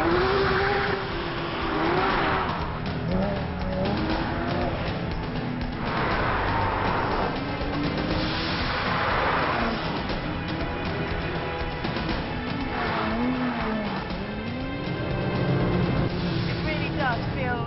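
A Porsche 911 GT3 runs laps at Cadwell Park circuit, its engine rising and falling through gears with repeated revving sweeps, a continuous loud drone recorded from the car, with a voice talking over it.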